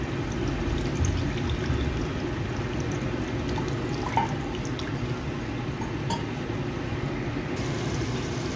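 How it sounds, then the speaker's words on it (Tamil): Tamarind water poured into a cooking pan, a steady continuous liquid stream with faint drips, close and unbroken throughout. "இப்போ புளித்தண்ணியை வந்து ஆட் பண்ணி புளித்தண்ணி வந்து பார்த்திங்கன்னா நல்லா வந்து கொதிக்கணும்"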